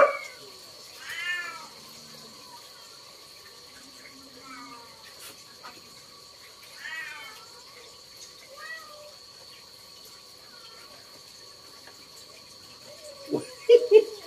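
A cat meows in a few separate, fairly loud bursts at feeding time indoors, with a dog nearby. A steady insect-like hum runs underneath, and a short clatter comes near the end.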